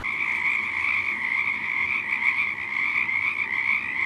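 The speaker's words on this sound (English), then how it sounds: "the Pacific chorus frog is so noisy that when he gets together with his mates to do his ribbit ribbit" A chorus of Pacific chorus frogs croaks continuously, many overlapping calls forming a dense, steady trilling din up close with no pauses.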